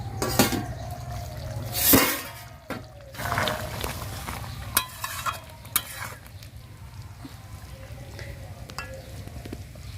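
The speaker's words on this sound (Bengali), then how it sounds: "এবার ঢাকাটা খুলে নিচ্ছি" A lid comes off a pot of simmering jackfruit and prawn curry, with a few metallic clanks and clatters over a low bubbling background, no talking.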